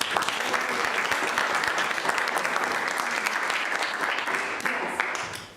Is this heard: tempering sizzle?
no